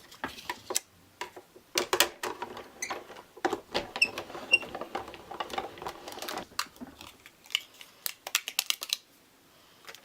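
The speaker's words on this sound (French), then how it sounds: "on passe ça au travers de la machine pour vraiment nous sortir avec une découpe comme ça" A paper cutting machine cuts paper for handmade flowers with quick, uneven mechanical clicks and ticks that come in bursts, fairly faint and close, then taper off.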